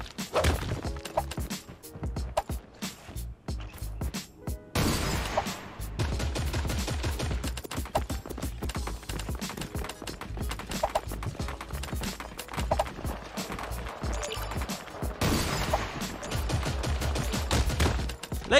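Gunfire in the online shooter game Creative Destruction during a box-wars tournament match, a dense, continuous stream of rapid shots and impacts with a brief lull near the start, loud and close throughout.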